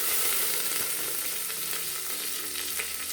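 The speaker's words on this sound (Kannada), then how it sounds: "ಇವನು ಒಂದು ಸ್ವಲ್ಪ ಎಣ್ಣೆಯಲ್ಲಿ ಹುರ್ಕೋಬೇಕು." Onion, garlic and curry leaves sizzle steadily in hot oil for a sambar with Malabar spinach, a continuous close, bright crackle with occasional stirring and no voices.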